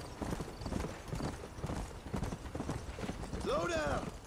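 Hooves of a galloping horse in the video game Red Dead Redemption pound in a fast, steady clip-clop rhythm, close and loud, with a brief whinny near the end and game voices over it.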